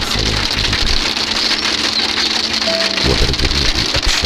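Steady rain falls loudly and continuously in winter, a dense hiss of drops with low rumbling beneath, no voices.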